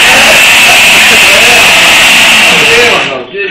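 A rotary hammer drill runs loudly and close in hammer mode, a harsh continuous roar that dies down near the end.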